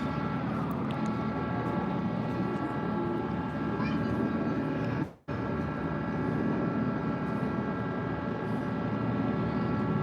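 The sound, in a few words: three planes flying over, smoke display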